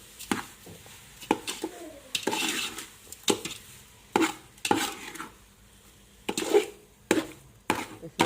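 Sugar is stirred into carrot halwa in a pot with a spoon, making a series of close, uneven scrapes and clinks against the metal with brief pauses between strokes and a faint simmer underneath.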